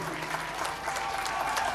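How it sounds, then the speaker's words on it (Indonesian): Sustained applause from a crowd at a school anniversary celebration honoring alumni of SMA YPK Tabernakel in Nabire, a steady dense clapping wash with some voices mixed in. "Kita berikan tepuk tangan lagi."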